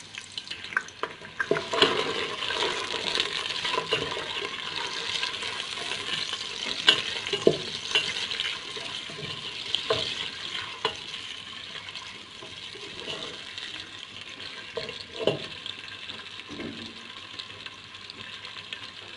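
Onions fry in a small amount of hot oil over a medium flame, a steady soft sizzle punctuated by scraping stirs and occasional clinks of the spoon against the pan, close by with no talking.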